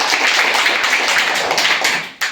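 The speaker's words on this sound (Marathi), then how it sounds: "संस्कृतीसाठी परत एकदा टाळ्या वाजायचा" Applause for a student at a primary school quiz: a crowd of children and adults clapping together in a dense, even patter for about two seconds, close and fairly loud, ending abruptly.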